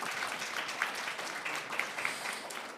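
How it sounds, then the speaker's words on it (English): A room full of attendees at a sustainable finance forum giving a panel a round of applause, steady dense clapping at moderate volume with a few sharper individual claps standing out. "Ladies and gentlemen, please give them another big round of applause."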